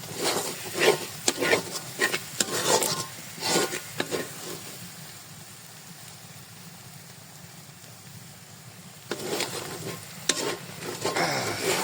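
Spices fry and sizzle in oil while being stirred, with bursts of stirring and scraping in the first few seconds, a quieter steady sizzle in the middle, then stirring picks up again near the end.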